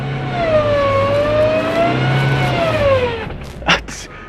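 A small Suzuki Jimny with tiny tires claws up an off-road slope while being pushed backwards, its engine droning and rising in a strained whine, with a brief voice near the end.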